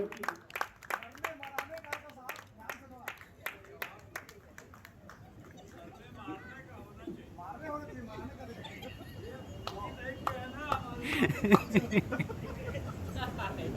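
Clapping from a kavi sammelan audience at a veer ras poetry gathering, sharp claps near at first, then settling into a dense, steady applause with crowd noise and voices mixed in, swelling again toward the end.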